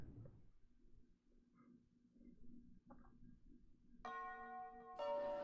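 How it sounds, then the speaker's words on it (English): A school bell chimes for the end of class in the visual novel Higanbana no Saku Yoru ni, entering after a quiet stretch as steady ringing tones and then growing brighter and louder with a second strike. "The teacher looked up at the clock as the bell signifying the end of class rang"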